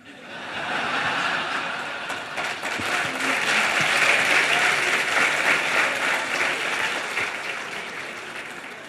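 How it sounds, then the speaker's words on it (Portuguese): A lecture audience in an auditorium breaks into warm, sustained applause that swells and then slowly tapers, with scattered chuckles mixed into the broad wash of clapping. "Esse é o lado lisonjeiro desses aplausos que vocês deram"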